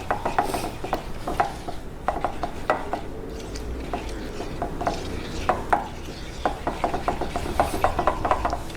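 Liquid ingredients for a plant-based spiced zucchini bread are stirred in a bowl, making quiet, irregular clicks and scrapes against the bowl with no talking.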